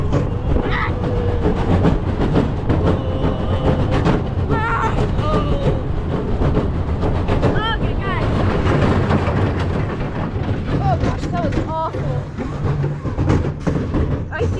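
A roller coaster rattling and clattering over rough track, a continuous loud rumble with rhythmic clacks throughout, while riders shout and talk over it.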